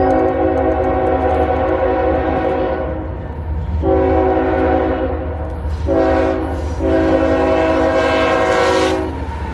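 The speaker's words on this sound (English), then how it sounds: "the crossings activate for southbound loaded coal train in 305" Southbound loaded coal freight train rolling past a crossing near Stylesboro, loud and close, with repeated long horn blasts over steady wheel rumble and clatter.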